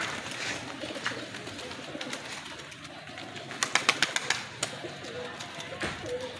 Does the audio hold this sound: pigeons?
yes